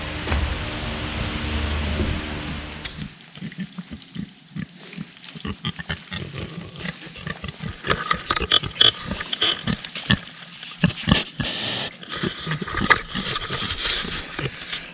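Farm pigs snort and grunt in a rapid, irregular string of close, loud bursts after a few seconds of steady mechanical whirring, with no speech.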